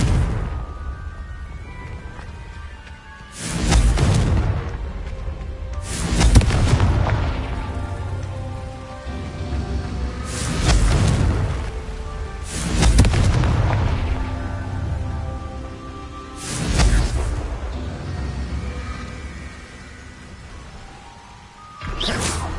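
Confringo blasting spells in Hogwarts Legacy, five or six loud booming explosions spaced a few seconds apart, each a sharp crack fading into a rumbling tail, with no talking.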